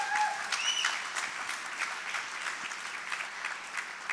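An audience at a talk on transforming documentation processes applauds, with dense and steady clapping throughout and a couple of brief whistles at the start.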